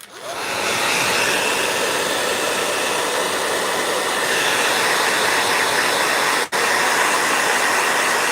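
A blow dryer runs loud and steady nearby, a constant whooshing roar that starts abruptly and cuts out for a split second before resuming.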